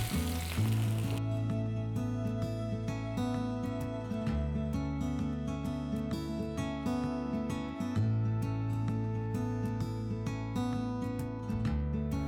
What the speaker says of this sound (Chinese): 再烧热1大勺植物油， 滋啦1声泼上去